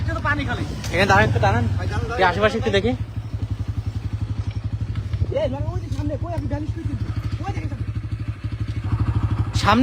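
A motorcycle engine drones steadily with a throbbing low hum as it rides along a road late at night, while people talk loudly over it.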